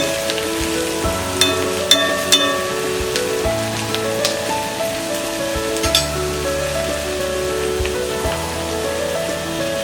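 Okra and onion frying uncovered in a pan over a low flame, giving a steady soft sizzle with scattered crackles and pops throughout, with no one talking.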